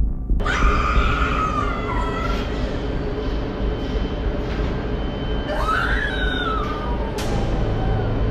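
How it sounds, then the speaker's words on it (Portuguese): Muffled human screams rise from inside steel shipping containers, a couple of wavering cries standing out over a heavy, constant rumbling noise bed. "ele ouviu claramente o que pareciam ser gritos humanos vindos de dentro de um dos contêineres"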